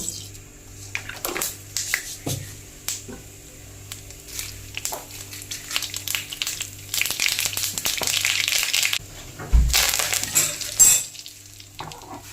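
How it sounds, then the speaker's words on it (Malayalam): Hot oil sizzles and crackles in a pan as mustard seeds pop sharply, with some stirring clatter, intensifying toward the end. "നമുക്ക് ഇതിനകത്ത് തന്നെ കടുക് പൊട്ടിക്കാൻ പോവാണ്"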